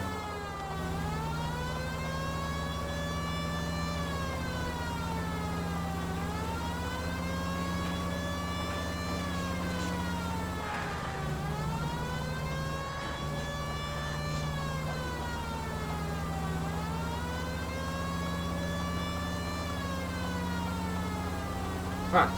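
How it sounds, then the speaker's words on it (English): Police car siren in the L.A. Noire video game, a loud wailing tone that rises and falls in slow repeated sweeps over a steady engine drone, continuous throughout. "Maybe it'd be easier if we put the siren on her."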